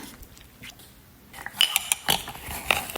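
A metal spoon scrapes and clinks against a dish while scooping peanut butter, a few short bright taps and scrapes close by, with no talk.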